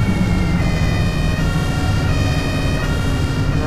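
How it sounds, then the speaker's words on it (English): A wailing ambulance siren in the bus-driving video game OMSI sounds loudly and steadily over a low engine rumble, with no talking. "Go there, you've got an ambulance behind"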